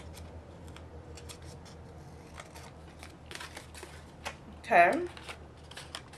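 Scissors snip excess paper from a handmade Christmas card in a quiet room, a series of faint, soft cuts with a brief word spoken midway.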